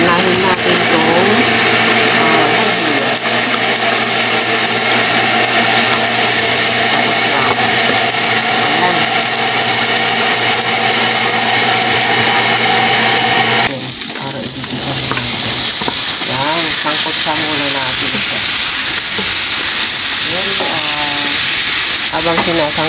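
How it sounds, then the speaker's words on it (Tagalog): Chicken sautéing in oil in a pan for chicken curry, a steady loud sizzle and frying hiss that runs throughout, with a clatter of stirring and a voice talking over it in the second half. "So, magdagdag lang ako ng konting mantika. Ngayon, nagigisa na tayo."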